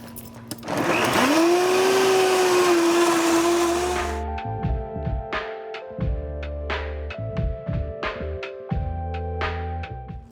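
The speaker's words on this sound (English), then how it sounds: "Put it on the blender." A blender whirring through a strawberry banana smoothie with milk and ice, a loud motor whine for about four seconds, then stopping into clattering and knocking of the jar and ice.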